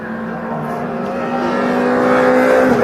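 A Class B Metro race car passing on track, engine note rising steadily with a clear harmonic whine as it approaches and grows louder, with commentary talking over it.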